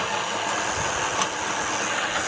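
A water pump motor runs at a borehole dug for a temple foundation, giving a steady, close mechanical hum with a rough, vibrating texture and no speech.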